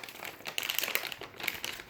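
Close, crisp crinkling of a plastic Milo packet being opened, in quick irregular bursts.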